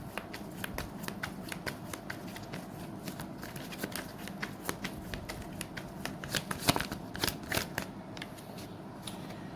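Oracle cards being shuffled for a reading, a steady run of crisp riffling snaps and soft slides close by, continuing alone without voices.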